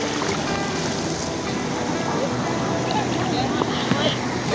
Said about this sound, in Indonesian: Suara ombak